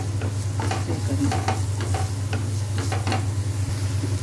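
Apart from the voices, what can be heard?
onions lightly frying in a pan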